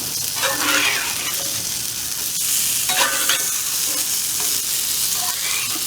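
Thick Rhode Island johnnycakes sizzle steadily on a hot griddle just after being flipped, a continuous close frying crackle with a few brief scrapes and pops and no voices.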